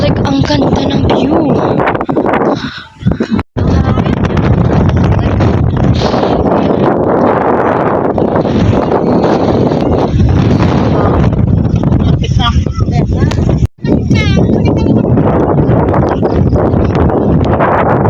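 Loud, steady wind at a campsite roars and buffets the microphone nonstop, with a couple of brief drops, while voices talk underneath.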